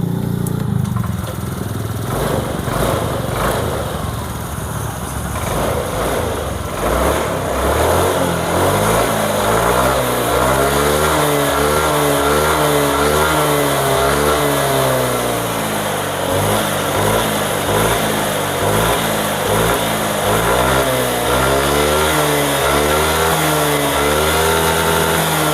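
A motorcycle engine is started and runs at a loud, steady idle, its throbbing pulse continuing close up for the full stretch with slight wavering in pace and no talking.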